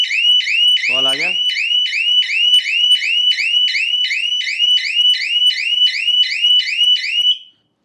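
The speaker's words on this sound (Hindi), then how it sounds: "जैसे ही दरवाजा अपनी जगह से खुलेगा वहां अलार्म बजना शुरू हो जाएगा" A Suraksha security system door alarm goes off, sounding a loud, rapid electronic chirp repeated in a steady rhythm for about seven seconds before cutting off. A brief voice breaks in near the start.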